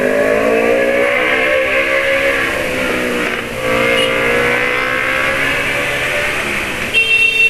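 A sport motorcycle engine, freshly tuned, runs loud and close in a sustained rev with a strong rising and falling whine, holding high for several seconds before a brief dip near the end, with no voices.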